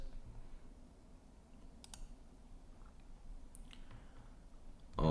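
A few quiet, sharp mouse clicks sound over a faint room background while saving changes in a web app, followed by a louder bump at the very end.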